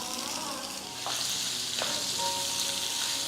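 Lemon pieces are stirred into garlic, chili and ginger frying in a pan: a steady bright sizzle with a couple of quick scraping stirs, close up and without speech.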